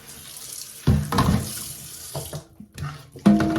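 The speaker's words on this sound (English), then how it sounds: "Use lukewarm water to wash my pots or my dishes." Lukewarm water runs from a kitchen tap into a sink while dishes and pots are washed, a steady splashing stream broken by louder gushes and clatters as items pass under the flow, with no talking.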